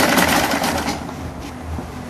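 A sewing machine stitches fabric for African native men's wear, a buba and sokoto, running as a loud, steady close whir that carries on without a break.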